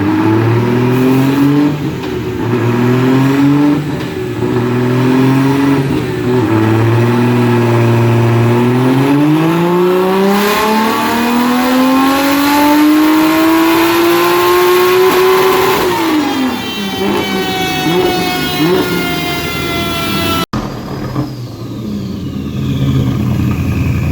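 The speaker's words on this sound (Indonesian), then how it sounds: "berisik banget mobilnya coy" Loud car with a BMW B48 engine revving hard and close, pitch sweeping up and down through long sustained revs before cutting off, then idling roughly.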